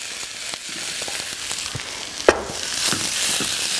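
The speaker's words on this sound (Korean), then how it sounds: "이렇게 해서 마늘을 좀 먼저 이렇게 볶아주죠" Garlic, onion and mushrooms stir-frying in a pan give a steady close sizzle, with scattered clicks and scrapes and one sharp knock partway through; no one talks.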